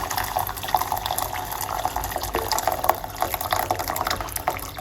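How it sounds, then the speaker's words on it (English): Hot water pours steadily into a cooking pot while making a ginger, garlic, white onion and clove tea, a continuous close splashing and filling sound with no talk. "put one cup of hot water into the pot"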